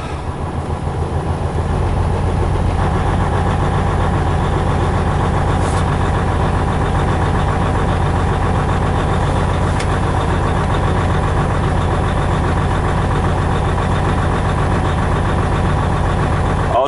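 Car engine running steady and loud just after a cold start at 4°F, a constant rough idle hum that holds for the whole stretch with no clear rise in revs and no talk.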